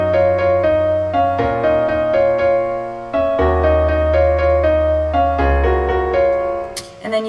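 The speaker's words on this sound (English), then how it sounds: "So a lower contrary motion harmony is going to sound like this." Lower contrary-motion vocal harmony sung over a pop track, the harmony line moving against the melody; a steady, loud sustained mix with held notes and no talking.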